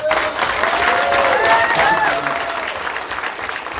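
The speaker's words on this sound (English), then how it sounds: "Can we give our candidates another round of applause?" Audience applause at the close of a university congressional candidates forum in Guam, steady dense clapping from a hall crowd filling the whole clip, with a few voices and whistles rising over it.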